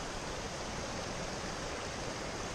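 A creek bends near Egg Rock, its water flowing in a steady, even rush that fills the whole stretch with soft broadband hiss and no voices.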